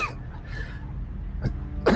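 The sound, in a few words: narrator imitating a character coughing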